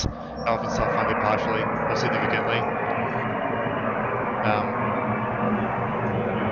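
A fixed-wing airplane passing overhead, a steady broad engine roar running throughout beneath someone speaking close to the microphone.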